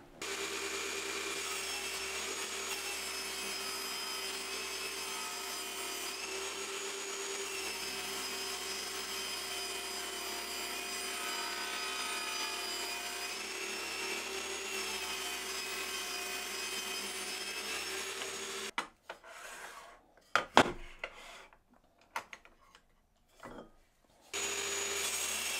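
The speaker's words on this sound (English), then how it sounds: "So now I can cut the four bits for my box so I can use the wine bottle as a reference and start cutting some bits down" A hand saw cuts through wood pieces for a small box in long, steady back-and-forth strokes, close and continuous, then stops and gives way to a few scattered knocks and handling sounds near the end; no one speaks.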